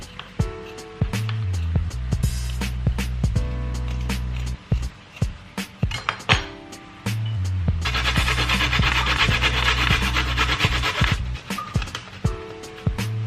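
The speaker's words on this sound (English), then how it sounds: "I'm going to take all the skin off with this spoon" Metal spoon scraping the skin off a knob of fresh ginger, a rough rasping rub repeated in close, loud strokes with brief pauses between passes.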